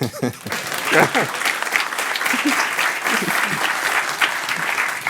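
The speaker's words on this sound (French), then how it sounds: "si vous applaudissez maintenant, c'est encore mieux." An audience at a programming talk on concurrency applauds, a sustained dense patter of many hands clapping, with a few voices heard near the start.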